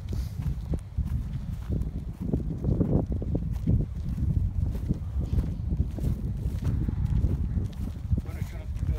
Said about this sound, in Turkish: Rüzgar çok arkadaşlar bugün.